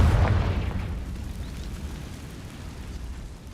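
A Confringo fire spell in the Hogwarts Legacy game bursts with a deep booming explosion at the start, then a rumbling tail that fades slowly over a few seconds.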